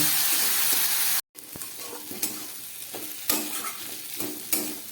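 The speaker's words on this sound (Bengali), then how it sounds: "এখানে কিছুটা জিরে ধনে শুকনো লঙ্কা গোলমরিচ বেটে নিয়েছি সেই মশলাটা আমি দিয়ে দিলাম খুব ভালো করে কষিয়ে নেব" A ground paste of cumin, coriander, dried chili and black pepper fries loudly in a pan for a fish curry, hissing steadily while a spoon stirs it in repeated scraping strokes after a short gap.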